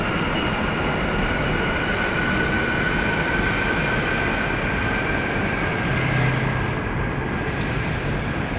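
Continuous loud rumble and roar of an MRT metro train in motion, steady throughout with a faint high whine running above the noise.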